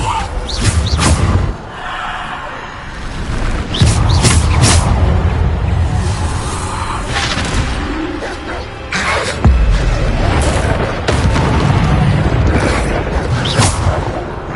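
Bombarda explosion spells go off in Hogwarts Legacy, heavy booming blasts that repeat amid ongoing combat effects and rumbling. The mix stays loud and dense throughout.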